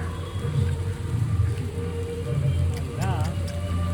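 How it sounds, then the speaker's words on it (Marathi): Heavy rain pours down in a constant, dense hiss throughout, with a low rumble beneath and a brief wavering tone partway through. "पाऊस आता लय पडत आलाय खरंच लय पडत आलाय"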